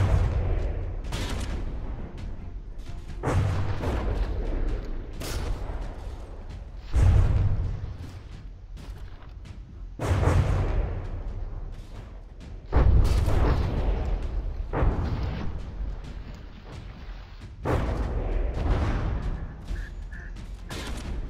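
Repeated heavy cannon blasts and shell impacts from a From the Depths naval battle game, booming at irregular intervals every few seconds over a continuous rumbling background of gunfire.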